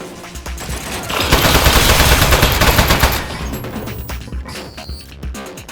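Automatic turret gunfire in the video game Aperture Desk Job: a loud, rapid machine-gun burst of roughly two seconds with crashing impacts, then fading into scattered clatter and quieter game noise.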